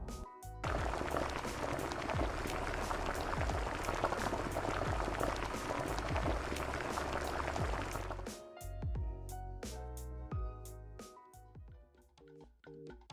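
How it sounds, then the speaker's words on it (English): Doenjang jjigae, Korean soybean paste stew made without tofu, boils in a pot, bubbling densely and steadily for several seconds before settling into slower, separate pops and gurgles. "let us take time and listen to the amazing boiling ASMR"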